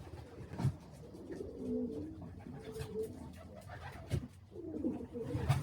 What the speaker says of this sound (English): That hen there is a national pigeon.